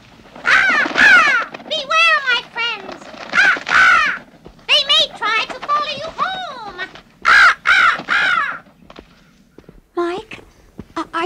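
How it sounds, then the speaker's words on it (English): A raven caws over and over in harsh, rasping calls, close and loud in an eerie haunted-mansion setting, with short pauses between bursts and faint footsteps beneath. "There's that raven again."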